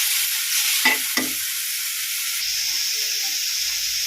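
Pumpkin leaves frying in a pan give a steady bright sizzle throughout, with two short scraping stirs early on and a shift to a softer, higher hiss partway through, no voices.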